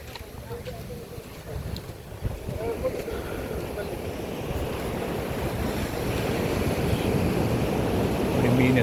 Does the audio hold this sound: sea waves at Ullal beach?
yes